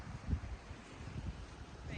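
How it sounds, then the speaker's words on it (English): Afternoon wind in the Algarve, Portugal, buffets the microphone in low, uneven rumbling gusts, with a steady rush of air underneath. "It is really windy this afternoon."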